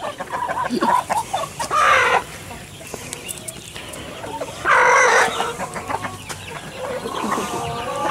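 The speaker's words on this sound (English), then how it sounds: "You're a very good hen." A hen clucks close by in short bursts, with a couple of louder, drawn-out squawks breaking up the steady clucking.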